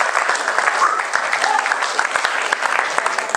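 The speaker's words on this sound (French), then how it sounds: "On peut vous applaudir" Audience applause fills the room at a live mentalism show in Chambéry, a steady dense clatter of clapping hands throughout, fairly loud and continuous.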